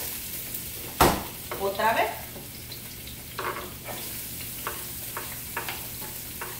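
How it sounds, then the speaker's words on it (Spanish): Chopped onion sautéing in a little hot oil in a home kitchen, a soft steady sizzle with a sharp clatter near the start and scattered stirring scrapes, while someone speaks briefly over it. "Ahora voy a sofreír la cebolla"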